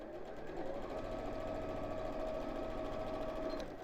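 A sewing machine stitches along the edge of a fabric bag with a steady, rapid mechanical chatter and hum that runs unbroken, close and moderately quiet, before stopping near the end.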